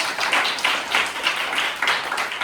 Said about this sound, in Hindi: तो उनके लिए भी एक बार तालियां बजा दें।